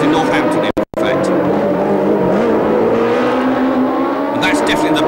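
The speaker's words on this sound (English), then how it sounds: "Car number 17, Jean-Pierre Jarier, the Don Nichols Shadow team" 1976 Formula One race cars at the US Grand Prix West in Long Beach, a loud continuous high-revving engine whine with shifting pitch as cars race past, beneath a commentator's voice.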